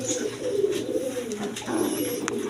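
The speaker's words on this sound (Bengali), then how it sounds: "একদম বড় সাইজের কবুতর আপনার রাজগোল্লা কবুতর যাকে বলে" Rajgolla pigeons, a large-sized breed, coo with low rolling calls close by, steady over a faint background hum, with a brief high whistle near the end.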